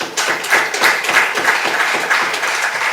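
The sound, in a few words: Lord Mayor clapping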